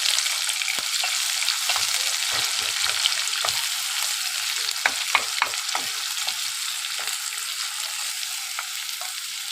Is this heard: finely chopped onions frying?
yes